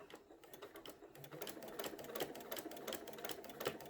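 A sewing machine stitches a rag quilt in a fast, even clatter of needle strokes, close and continuous, picking up pace after the first second.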